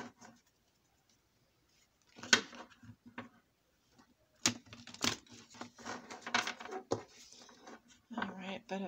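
Tarot cards being shuffled in irregular, messy riffling bursts, with papery slaps and brief pauses between handfuls, close up.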